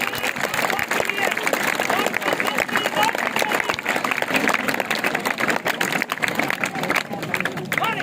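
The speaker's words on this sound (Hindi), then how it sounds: "जोर से तालियां बजाएंगे।" At a school magic show, a large crowd claps and cheers continuously, dense and loud, with voices mixed into the steady roar of applause.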